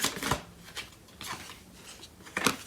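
Tarot cards shuffled by hand in a few quick riffling bursts, close and crisp with short pauses between, no talking.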